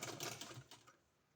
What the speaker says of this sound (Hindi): ये जो कपड़ा है इसको इसमें इस तरह से सिलाई लगा देना है